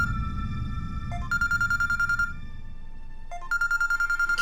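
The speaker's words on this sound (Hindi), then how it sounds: "किसी अननोन नंबर से कॉल आ रहा है।" A phone plays an electronic ringtone for an incoming call from an unknown number: two bursts of a bright, repeating melodic tone, each followed by a short pause, over a soft low background hum.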